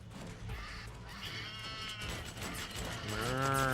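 Low, drawn-out mooing calls from enemies in Metal Gear Solid 4 during a boss fight, rising and layered over a steady rumbling game soundscape, growing louder toward the end.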